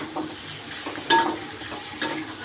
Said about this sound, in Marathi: काही एखादा मिनिट फ्राय केलं तरी चालते